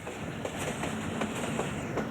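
Millat Express passenger train rolling along the rails, a steady rumbling roar with faint rhythmic clacks of wheels over track joints, heard from inside the coach.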